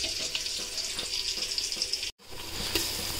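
Onions sizzle steadily in a pan for chicken pulao, a continuous crackling hiss with small pops, broken by a brief cut before the frying sound resumes, with no talk.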